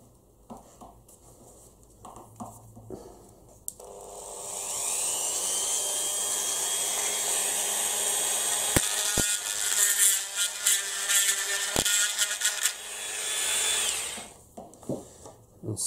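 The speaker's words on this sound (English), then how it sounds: "I'll just grind that out just a little bit more." A small high-pitched rotary tool grinds into a stubborn plastic part of a 1/18 Audi R8 model car kit, whining steadily for about ten seconds with a few sharp clicks before stopping.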